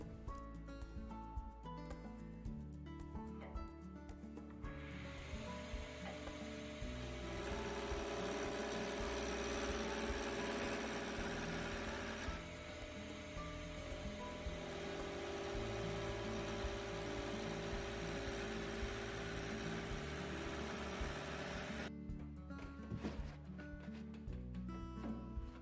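A roughing gouge cuts a spinning wood blank on a wood lathe, giving a steady whirring, scraping drone that swells in the middle and continues without pause and without speech.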